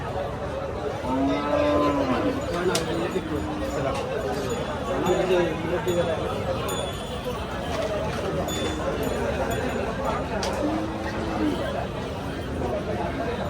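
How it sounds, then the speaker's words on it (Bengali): Large Sahiwal cattle at a busy rural livestock market, several low moos rising and falling at a middle distance over a steady crowd babble and nearby talk. "আলমাজ ব্যাপারী খুব সুন্দর সুন্দর শাহিওয়াল নিয়ে আসছে, হিউজ সাইজের। মাশাআল্লাহ, সব ম্যাসিভ সাইজের গরু।"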